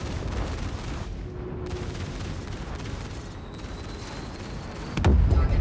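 Cannon fire from an Anvil F7C Hornet Wildfire spacecraft in Star Citizen, rumbling bursts over a constant engine drone, ending in a loud, heavy boom at close range.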